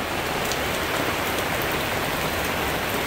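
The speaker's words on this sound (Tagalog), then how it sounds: "Malakas ang ulan." Heavy rain during a stormy night pours down steadily and densely, a close, unbroken hiss of drops on surfaces with no voices over it.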